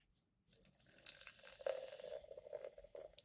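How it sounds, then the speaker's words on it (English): Pepsi mango soda is poured from a bottle into a cup, a short faint fizzing splash that builds after a brief silence and then settles into a soft hiss. "I'm not gonna pour a whole lot in there."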